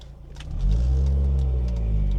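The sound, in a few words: NC Mazda Miata accelerating on a test drive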